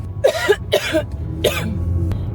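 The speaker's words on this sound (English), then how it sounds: "I just have this cough that just won't leave me alone." Three harsh coughs from a lingering cough come close together, each a short raspy burst, followed by a brief click and quiet.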